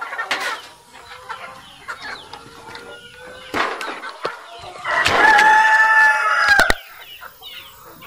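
Chickens cluck and squawk nearby, then a rooster lets out a long, loud crow that dominates the middle, with more clucking around it.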